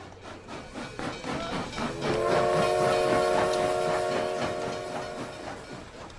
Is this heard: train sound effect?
yes